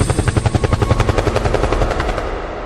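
Helicopter rotor effect in a Brazilian funk track: rapid rhythmic whump-whump pulses of rotor chop, loud and up front, easing slightly toward the end.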